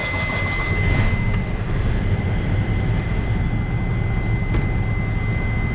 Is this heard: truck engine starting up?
yes